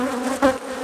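Honey bees buzz close by during a beehive inspection and split, a brief, loud, tonal buzz that swells briefly midway.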